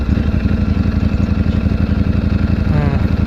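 A motorcycle engine idles close by with a steady, throbbing low pulse and no pauses, as bikes arrive at a meeting spot.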